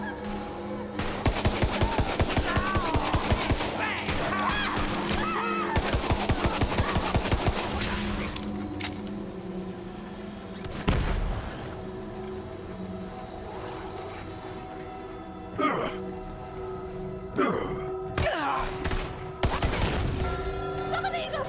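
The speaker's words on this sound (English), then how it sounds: "Some of these are warning shots!" Rapid automatic gunfire from the Borderlands 3 video game rattles in dense bursts for the first several seconds, then gives way to scattered louder single shots and impacts, with a voice talking over parts of it.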